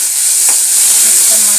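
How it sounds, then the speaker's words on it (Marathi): Chopped tomatoes hitting hot oil in a pan for a rustic village-style cowpea vegetable dish, a loud steady sizzle and hiss with faint stirring scrapes, no talking. "हे टमाटर टाकलं बघा."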